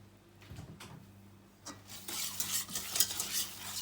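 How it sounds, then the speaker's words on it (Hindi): A spoon stirring sugar as it melts in butter in a pan over near-high flame for halwa, with soft scraping at first, then a growing crackling sizzle. "और मुसलसल आपने इसमें चम्मच चलाते रहना है।"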